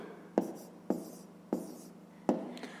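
Numbers written by hand on paper for a fifth-grade maths exercise, four short close pen taps and scratches spaced evenly over a quiet background hum.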